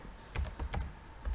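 Rapid clicking of keys on a computer keyboard while entering Minecraft command block code, several quick bursts of keystrokes close to the microphone with brief pauses between them.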